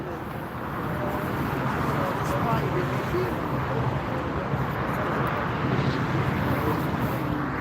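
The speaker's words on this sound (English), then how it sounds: "Touchdown, grounded." A large airliner touching down and rolling out on the runway at Frankfurt International Airport, a steady broad roar of engines and wheels at moderate distance, sustained throughout with a voice talking over it.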